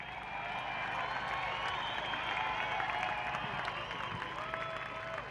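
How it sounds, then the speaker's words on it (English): Crowd applause and cheering for skydivers at a hydroplane boat race at the Skagit Nationals, a continuous faint outdoor wash of clapping from a distant grandstand. "How about a big round of applause for the Skydivers"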